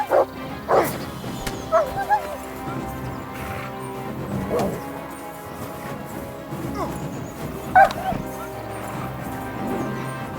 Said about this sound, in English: Someone call off that mutt!